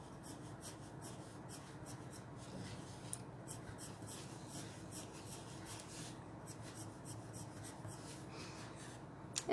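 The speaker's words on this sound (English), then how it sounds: "in the middle I have given straight type of strokes, and here the strokes are becoming round" Pencil strokes scratch across drawing paper during a fine-arts still-life sketch, a steady, close, soft scraping that runs on without pause, with straight and rounded strokes blending into one continuous rasp.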